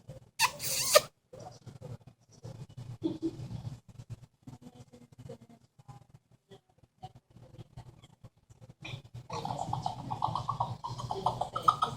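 An amazon parrot makes soft kissing and smacking noises, quiet and scattered, with brief squeaky bursts and a faint chatter of small sounds near the mic.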